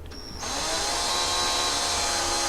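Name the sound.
small drill making tiny holes in microwave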